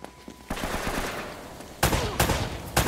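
Gunfire in the video game Uncharted: Drake's Fortune, with a dense rattling burst followed by several loud, sharp shots close together.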